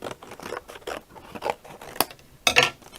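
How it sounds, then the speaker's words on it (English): Scissors snip away a piece of tape during a card-making session, giving a few soft crinkly cuts and rustles that build to a sharper snipping burst near the end, close and alone. "And we'll just cut a bit of this away."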